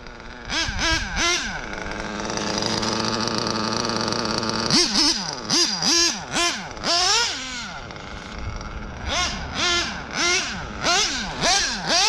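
A modded Triton L5 engine fitted with a Nova race carb runs loud and close. It holds a steady idle, then gives a string of sharp throttle blips that rise and fall.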